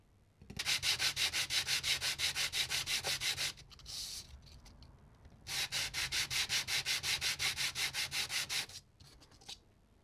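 Sandpaper scrubs across motorcycle clutch plates from a Suzuki DRZ400SM in quick, even back-and-forth strokes, two close bursts of rhythmic rasping separated by a short pause.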